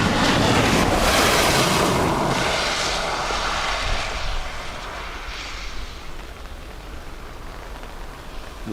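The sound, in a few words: Loganair ATR turboprop aircraft from Aberdeen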